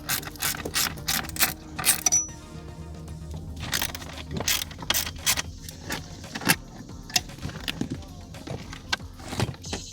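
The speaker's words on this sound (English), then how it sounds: "Now with the 10mm socket I need to remove this screw and this one from here." A ratchet with a 10mm socket turning out screws inside a BMW F25 cabin, with rapid clicking pawl bursts and small metallic knocks close by, while a voice talks at moments.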